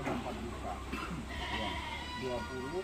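Goats penned in a farm shed bleat in drawn-out, wavering calls under steady nearby conversation between people.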